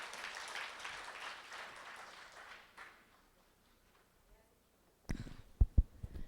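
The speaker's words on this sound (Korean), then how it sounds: "기왕 칠 거 박수 좀 크게 좀 치면 더 좋을 것 같습니다." Audience applause welcoming a presenter at a Korean IBM briefing session, moderate clapping that fades to near silence, followed by a few sharp knocks or thumps close by.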